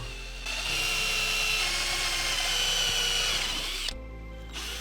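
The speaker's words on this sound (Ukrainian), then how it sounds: "Свердлю отвори центровичним свердлом." A power drill with a center drill bit whines steadily for several seconds close by, boring holes into material, then stops abruptly.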